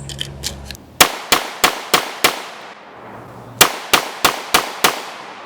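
Two rapid strings of sharp, loud pistol shots from a Rock Island Armory STK100 at an outdoor range, six shots then five, evenly spaced with short echoing tails and a pause between strings.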